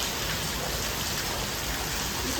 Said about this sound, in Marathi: इथे पाऊस पडते इथे जेवण करतात सर्वजण